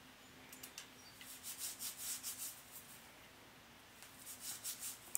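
Castor oil squirted from a squeeze bottle and rubbed into hair by hand, heard as soft, close rubbing strokes in quiet bursts with a short pause between them.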